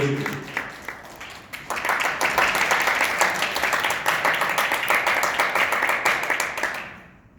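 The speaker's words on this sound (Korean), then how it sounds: "박수 부탁드립니다" Guests at a small wedding ceremony break into sustained applause, a dense wash of many hands clapping that swells, holds steadily for several seconds, then fades out.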